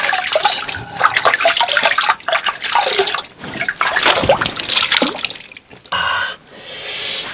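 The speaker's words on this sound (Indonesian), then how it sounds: "saya coba cuci muka di sini ya" Clear spring water splashes in irregular bursts as hands scoop it up to wash a face outdoors, close and fairly loud, with brief pauses between splashes.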